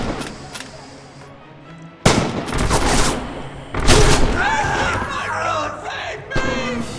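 Enemy gunfire in Red Orchestra 2: Heroes of Stalingrad, with loud bursts of rifle and machine-gun fire and explosive cracks over battle shouting and crowd-like yelling, with a quieter stretch at the start.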